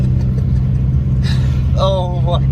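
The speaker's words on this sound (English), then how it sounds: "Now we're just doing some donuts." A 2014 Subaru BRZ spinning donuts: a loud, steady engine drone with tire noise that holds throughout, then rises into a brief rev, while people talk and shout over it.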